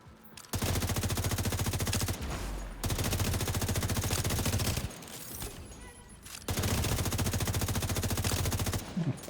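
Rapid automatic gunfire from a video game weapon firing at about 850 rounds per minute, loud sustained bursts of several seconds separated by short pauses, with no talk over it.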